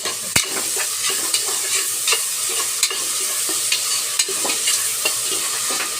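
Curry leaves and chopped onions with salt frying in a pan, a steady close crackling sizzle with scattered sharp pops and occasional stirring scrapes throughout.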